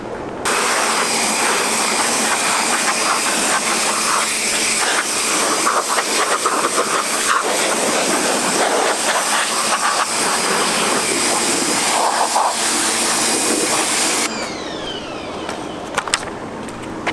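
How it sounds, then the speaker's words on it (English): A pressure washer sprays car roof brace parts and radius rods from a Del Sol with a loud, continuous hissing roar. The spray roars steadily close by and cuts off near the end. "I'm gonna just power wash these off really quick so they're nice and clean"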